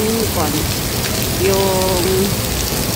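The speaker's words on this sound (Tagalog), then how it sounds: "Grabe na ngayon yung ulan, guys." Heavy rain pours steadily as a dense, loud hiss of drops on surfaces, with voices faintly audible in the background.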